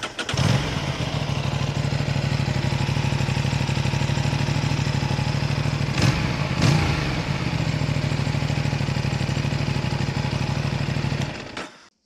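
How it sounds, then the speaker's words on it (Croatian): A 2025 Aprilia Tuono 457 motorcycle engine starts up and idles steadily for several seconds, a close, loud and rough-sounding drone with a brief blip midway before it cuts off at the end. "Zvuk mašine užasan, evo ja ću vam ga sad upaliti samo da čujete koliko ovo loše zvuči."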